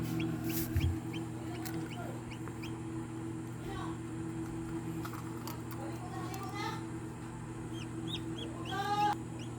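A newly hatched Rhode Island Red cross chick in a homemade egg incubator gives a few faint, high peeps and cheeps over a steady low incubator hum.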